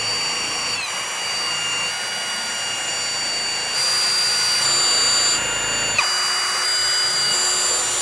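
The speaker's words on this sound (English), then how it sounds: "This way I can drill right in the center." A power drill runs continuously with a steady whine while screwing into a wooden subwoofer box, holding a sustained drone that shifts up in pitch partway through and then drops back.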